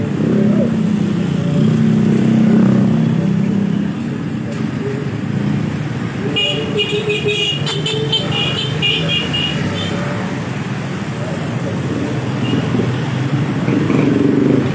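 Riding pillion on a motorcycle: a steady engine rumble and road noise carry throughout, with someone talking over the ride.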